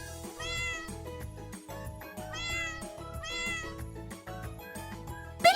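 A cat meows in three clear, evenly spaced calls over a steady, rhythmic musical backing, close and moderately loud.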